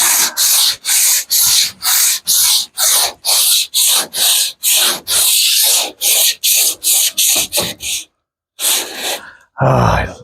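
Hand block sanding with feathering strokes, using 80 grit paper on a surface being stripped, gives a loud rhythmic rasping of about twenty even back-and-forth rubs, then a short pause and a final scrub.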